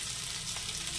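Ginger paste sizzling steadily in a hot frying pan while a Bengali shukto dish is cooked, a continuous close, dense crackling hiss with no talking.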